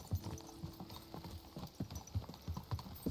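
Faint, rhythmic clip-clop of horse hooves at a steady walking pace, quiet and alone, in the video game Kingdom Come: Deliverance II.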